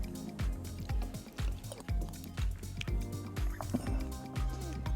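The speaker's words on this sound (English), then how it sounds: "Let me try some broth." Mushroom and leafy green noodle soup broth with miso, slurped and sipped in several quick, soft, wet pulls close to the mic.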